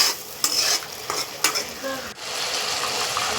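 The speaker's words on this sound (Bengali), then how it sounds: "জল দিয়ে আমি একটু ভালো করে মশলাটা নাড়াচাড়া করে নিয়ে" Spice masala with a little added water is stirred and fried in a pan for an egg paneer dish, a steady close sizzle broken by a few sharp spoon clinks and scraping strokes.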